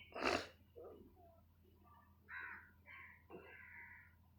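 Crows on a rooftop give a few close, hoarse caws, one loud burst followed by softer croaks and short calls against a quiet background.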